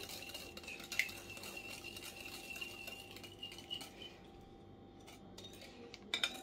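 Metal utensil stirring a sugar syrup mixture in a bowl for kalb elouz, producing faint, intermittent scrapes and clinks, quiet and close with no talking.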